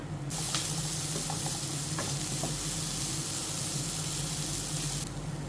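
Grated coconut roasting in a pan for Kerala theeyal sizzles with a close, even hiss throughout, broken only by a few faint clicks of stirring.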